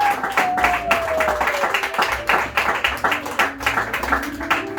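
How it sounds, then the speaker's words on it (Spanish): A church congregation claps together in praise after a pastor's call, a dense rhythmic patter of hands under a sustained sung or organ tone, fairly loud and continuous. "vamos a recibir la palabra de Dios con un fuerte aplauso al Señor"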